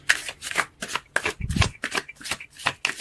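A deck of tarot cards is shuffled near the microphone, producing rapid, rhythmic riffling and slapping bursts that repeat steadily with brief gaps between them.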